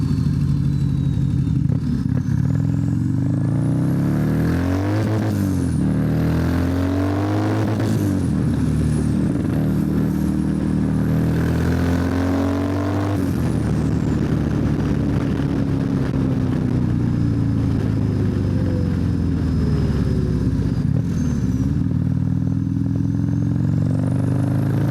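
A turbocharged 2024 Harley-Davidson CVO ST motorcycle engine revs up and down in repeated bursts at close range, with a rough mid-pitched rumble between throttle blips and no talking.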